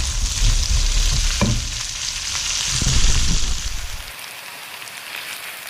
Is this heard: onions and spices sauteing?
yes